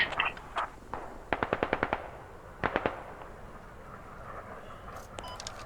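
Automatic gunfire in the Squad military shooter game comes in rapid bursts of short, sharp cracks, one longer string and a shorter one, fairly distant against a quiet background.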